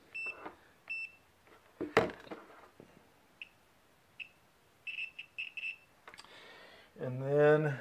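A multimeter set to continuity gives short high beeps while probing a CRT television for color faults, several brief chirps scattered among soft clicks and probe taps, with a voice talking at the end.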